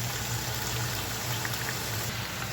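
Water poured into a pan of cooking chicken, a loud continuous sizzling and bubbling hiss held steady for a couple of seconds with no voices.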